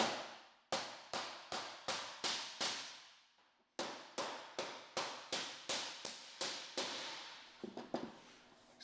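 Hammer strikes a nail to fasten the S-lock edge of sheet metal joined on a roof, giving two quick runs of about six sharp, ringing metallic blows each, loud and close, with no talk.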